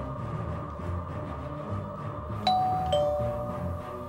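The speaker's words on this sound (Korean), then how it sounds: "그때 초인종이 울렸다." A doorbell sounds twice in quick succession, two clear ding tones that ring out over a low, murmuring background in a dramatized domestic scene.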